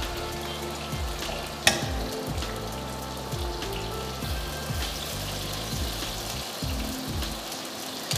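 Lamb shanks sizzle and fry in a casserole pan, a steady close crackle of hot fat with rhythmic scraping stirs repeating underneath.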